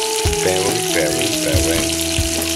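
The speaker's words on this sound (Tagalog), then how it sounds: "Ilagyan na natin ang ating bewang. Papulahin natin ang ating bewang." Garlic sautéed until browned for Filipino ginisang gulay, a constant close sizzle of hot oil with a few stirring bumps over steady background tones.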